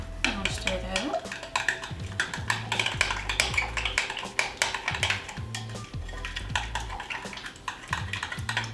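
A spoon stirring ranch dressing into a loaded potato salad, giving repeated soft scraping and clinking strokes against the bowl, steady and close throughout.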